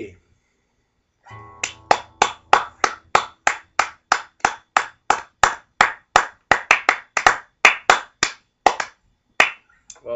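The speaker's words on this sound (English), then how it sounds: "we know you're clapping at home" Loud, sharp hand claps in a steady rhythm, around two dozen evenly spaced strikes close to the microphone, with a brief murmur of sound just before they begin.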